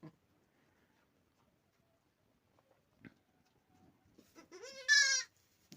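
A goat bleats once, loud and close, after a stretch of near silence with faint rustling and small knocks.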